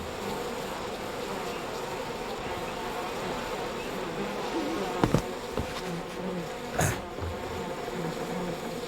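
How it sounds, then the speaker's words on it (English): A steady, droning buzz of bees hums throughout in the game We Happy Few, with a couple of brief thumps and a soft rustle partway through and no speech. "Not the bees!"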